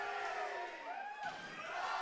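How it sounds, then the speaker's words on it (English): A large crowd roars and cheers continuously at a tournament grand final, with whoops and shouts swelling in a dense, loud wall of noise throughout. "Listen to the crowd here."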